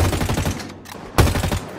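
Gunfire in a Halo stop-motion battle scene rattles as loud rapid automatic bursts, a dense stream of shots that pauses briefly and then resumes with a sharp onset.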